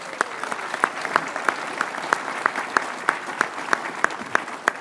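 A crowd at a Senate Veterans' Affairs Committee hearing claps steadily and enthusiastically for veterans, with sharp individual claps rising above the sustained applause throughout.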